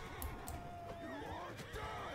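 A horse neighs and whinnies amid the busy, dense din of a Mount & Blade II: Bannerlord tournament, with faint hoof clatter and game noise throughout.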